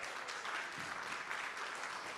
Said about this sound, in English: So for that, give them another round of applause.